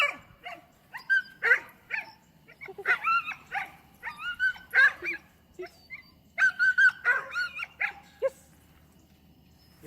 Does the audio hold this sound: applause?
no